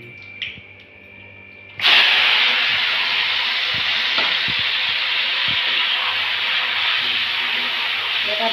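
Marinated meat hits hot oil with a sudden loud sizzle that starts about two seconds in and keeps hissing steadily to the end, after a quieter opening of kitchen clatter.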